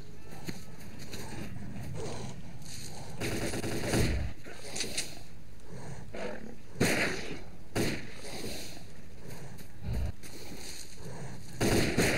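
Gunfire in the video game Lost Alpha: sharp shots crack out irregularly over about twelve seconds, some single and some in quick bursts, against a continuous noisy background.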